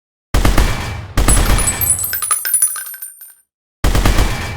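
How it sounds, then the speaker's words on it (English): Automatic weapon fire in a Unity first-person shooter game, with loud, close bursts of rapid shots, a ringing metallic tail as one burst fades, then another burst starting after a brief silence. "let's start shooting."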